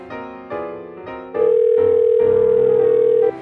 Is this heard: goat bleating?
no